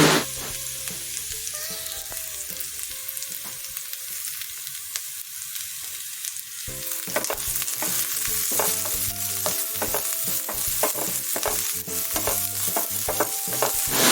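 Sliced onions sauté in a hot pan for a bitter gourd thoran, a loud continuous close sizzle with scraping stir sounds, accompanied by background music and no speech.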